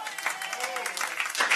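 Scattered applause from members of the Walloon Parliament in Wallonia follows a debate exchange, a fairly quiet, brief patter of clapping heard at some distance in the chamber.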